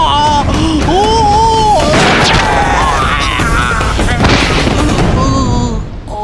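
A gunshot rings out in a wartime village drama, a sharp loud burst set amid shouting voices and a dense dramatic soundtrack that stays loud throughout.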